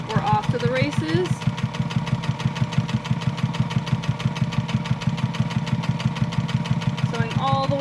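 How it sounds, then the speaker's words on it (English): A sewing machine stitches bias tape onto a fabric mask, its rapid, regular mechanical chatter close and continuous, with a voice speaking briefly over it at the start and end. "Sewing all the way down the line."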